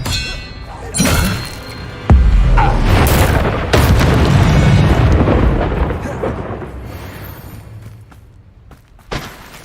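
Spell effect from Expelliarmus, cast in the Hogwarts Legacy video game: a loud booming, clanging magical impact with thunder-like rumble, several sharp hits over dense combat sounds.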